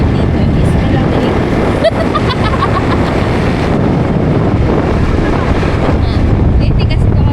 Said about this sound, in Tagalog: Malamig yung simoy ng hangin.